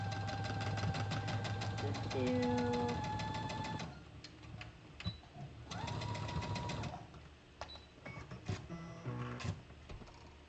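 A sewing machine runs a straight hem along a T-shirt dress in a few short runs, close by, mixed with handling clicks and a faint tone.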